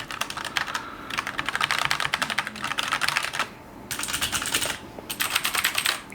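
Rapid typing on a budget mechanical gaming keyboard with red-feeling switches, dense clacking bursts close to the ear with two brief pauses between runs.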